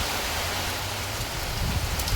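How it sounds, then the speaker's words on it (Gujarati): Heavy monsoon rain pours down in a village, a dense, unbroken hiss close by with no voices over it. "પહેલો વરસાદ ચોમાસાનો 2 દિવસથી સતત વરસાદ શરૂ છે."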